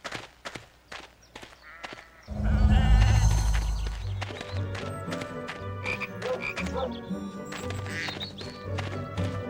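A chocolate frog in the Harry Potter 2 video game gives a loud, repeated croaking that starts abruptly after a few short taps, with game music and effects layered underneath.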